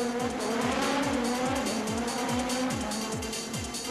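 A Renault Megane rally car with front-wheel drive, running in a rally at Albena, Bulgaria, heard as a steady loud engine roar with a rapid run of repeated gear or rev sweeps, close and continuous, with no talking.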